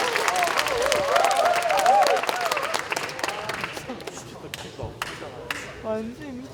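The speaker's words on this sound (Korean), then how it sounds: "다시 한번 큰 박수를 부탁드리겠습니다" Audience applause at a memorial lecture event, a broad wash of clapping mixed with crowd murmur and voices that thins out toward the end, with a few sharper isolated claps.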